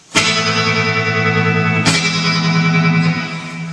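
A guitar effects unit with the mix turned all the way up gives a weird, glitchy, distorted sustained tone, loud and dense, with a sharp restruck attack partway through and a smeared, echoing tail.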